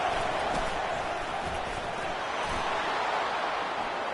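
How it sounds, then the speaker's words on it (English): College football stadium crowd roars steadily on a third-down defensive play, a dense, sustained wash of cheering noise at even loudness with no clear breaks throughout. "Decibels rising as the crowd gets behind this defense on third down."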